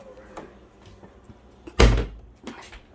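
A kitchen cabinet door holding foil and paper rolls opens with a single close, fairly loud thump and knock, followed by a lighter rattle, against quiet room tone.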